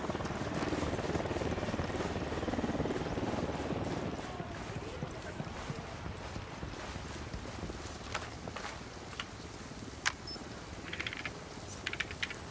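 A cartel supply helicopter in the Ghost Recon video game gives a broad, rumbling whir that is loudest at first, then settles lower with scattered clicks and ticks.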